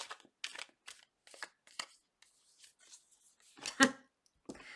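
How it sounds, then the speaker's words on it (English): Tarot cards being shuffled in quick, crisp riffling bursts separated by short pauses, close and fairly quiet, with no voices. "Last shuffle"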